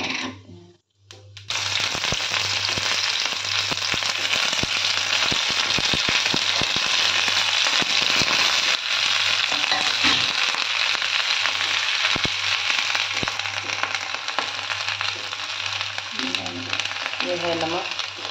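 Cumin seeds hit hot oil for okra curry and burst into a loud, dense, continuous crackling sizzle that holds steady after a brief quiet start, with a faint voice near the end.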